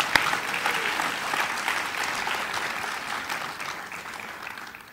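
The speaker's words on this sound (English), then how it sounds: "give you a round of applause for being here" An audience at an afternoon education session in Kuala Lumpur applauds, a dense even wash of clapping that holds steady throughout and fades slightly toward the end, with no voices over it.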